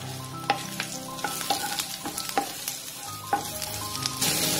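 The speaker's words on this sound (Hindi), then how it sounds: "सबसे पहले इसमें हम मशरूम ऐड कर देंगे, इनको हल्का सा कुक करेंगे" Mushrooms fry in a hot pan with garlic, sizzling loudly and steadily while a utensil stirs them, scraping and clacking against the pan now and then.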